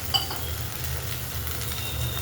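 Soaked masoor lentils tipped into hot oil in a pan, giving a steady, fairly quiet sizzle with a faint clink of a utensil near the start.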